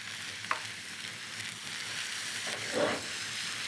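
Lamb meatballs fry in a pan with herbs and salt, giving a continuous close sizzle with light crackles and a brief stir or scrape near the end.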